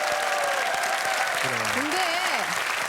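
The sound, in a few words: studio audience applause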